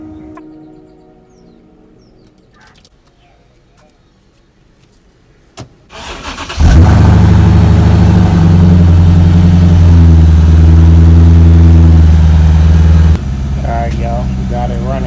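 A Mercedes E550 W212, a car that sinks overnight, is quiet at first, then its engine cranks and catches with a loud roar and settles into a steady, close idle, with voices faintly in the background.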